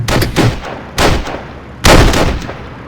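Three rifle volleys fired in unison for a memorial in the WWII Online game, each a loud sharp crack with a short decaying tail, spaced about a second apart.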